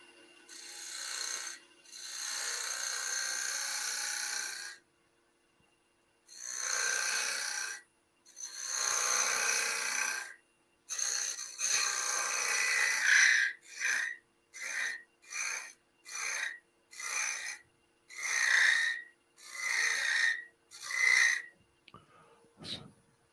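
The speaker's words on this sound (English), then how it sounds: "So just some pre-shaping on the lathe." A wood lathe pre-shaping a turning blank gives rasping, scraping cuts in long passes at first, then shorter rhythmic bursts with brief pauses between them, close and fairly loud with no talking.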